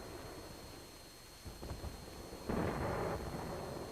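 American artillery fire on Garapan, the Japanese-held capital in the Mariana Islands during World War II: faint, distant rumbling booms, a couple of muffled thuds followed by a heavier rolling blast.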